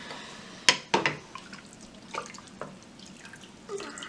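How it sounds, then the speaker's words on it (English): Hot water poured into curds while making bocconcini, heard as a few sharp drips and splashes followed by softer trickling pours, fairly close and with no talking over it. "Add some more hot water."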